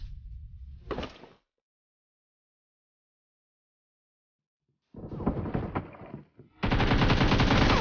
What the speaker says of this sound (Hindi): बोट का पिस्टल से मार दिया।